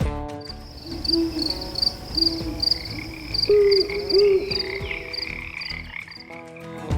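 Night wildlife chorus with repeated frog croaks, a hooting owl and chirping insects, layered and fairly close, with no talking.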